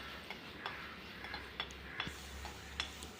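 Sprouted legumes fry in a pan with chilli and onion, giving a quiet low sizzle and a run of light, regular spatula ticks and taps, with no one talking.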